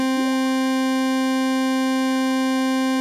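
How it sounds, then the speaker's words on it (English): A steady buzzy synth tone is swept by an all-pass filter phasing effect that glides up and then back down, loud and close with no talking. "And an all pass filter sounds like this."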